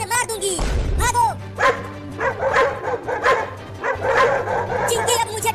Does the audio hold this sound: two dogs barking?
yes